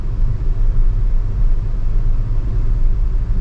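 A 2024 Tata Altroz Racer Edition cruises in sixth gear, a loud, steady low engine and road drone filling the cabin without change, with no voices.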